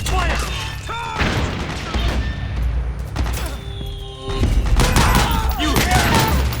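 Soldiers firing in a Metal Gear Solid 4 battle, with dense rattling volleys, sharp shots and heavy thuds close by, growing louder and more crowded toward the end.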